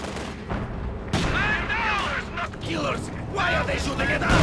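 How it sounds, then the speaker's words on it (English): Gunfire from a Company of Heroes 2 battle, with Guards infantry and a Panzer IV under intense fire, crackles steadily throughout under continuous commentary, with sharper bursts of shots and booms. "coming under intense fire here. Lots of shots"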